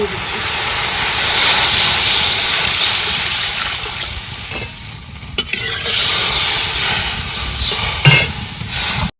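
Water at a hard boil in a cooking pot, a loud, close hiss and bubbling roar that dips briefly midway, then surges again with a few clinks.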